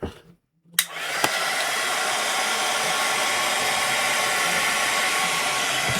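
A heat tool blows steadily to dry water-based ink on paper, a loud continuous whirring hiss that starts after a brief quiet moment with a click and runs alone to the end.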